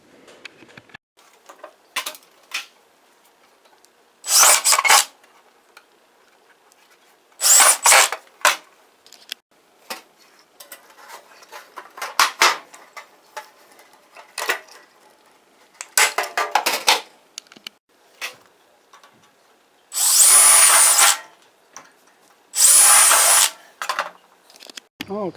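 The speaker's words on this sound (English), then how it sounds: "I'm going to go ahead and rivet it together." Several bursts of power-tool whirring, likely a drill, alternate with scattered taps and clicks while a tin belt guide for an older Ariens snow blower is riveted together. The bursts repeat irregularly and sound close, with no talk.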